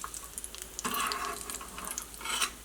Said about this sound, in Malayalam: കശുവണ്ടി എപ്പോഴും നമ്മൾ വറുത്തിട്ട് എടുക്കുമ്പോൾ ഭയങ്കരമായിട്ട് മുരിഞ്ഞ് പോരുത് കേട്ടോ